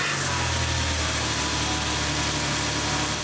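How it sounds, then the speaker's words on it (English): A Chevrolet Impala 3.5L V6 idles after a spark plug and wire replacement, giving an even, steady hum with a smooth low drone, close and continuous throughout. "So as you can hear, the engine is running perfectly great."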